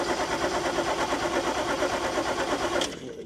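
A Toyota Cressida MX32 engine cranks over at a wrecking yard in a steady, rapid churning rhythm that holds loud and close for about three seconds, then cuts off abruptly.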